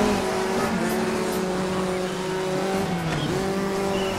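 A rally car drifts in the Dirt 3 racing game, its engine droning loudly and steadily with gear-shift dips and tire scrub, close and continuous throughout, no talk.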